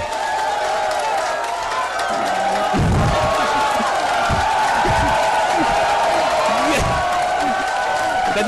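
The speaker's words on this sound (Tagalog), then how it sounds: "Ganyan ang tamang palakpak." A seminar crowd claps and cheers steadily, loud and sustained, with scattered whoops and sharp slaps over continuous talk from a speaker at the front.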